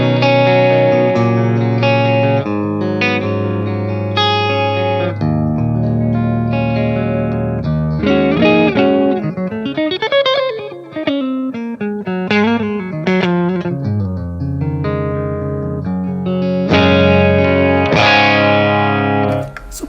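A clean electric guitar tone from a Matchless amp model on a Tonex with light reverb and some compression, playing loud sustained chords and ringing arpeggiated notes alone, with smooth decays between phrases.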